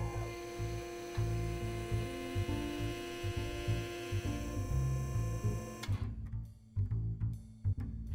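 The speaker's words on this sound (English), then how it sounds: "we have our proportional valve controlling our horizontal cylinder, causing the cam to control the hydraulic motor speed" A hydraulic motor on a Parker proportional valve trainer, driven by a proportional valve, horizontal cylinder and cam, runs with a steady electrical hum and throbbing drone that drops off abruptly near the end.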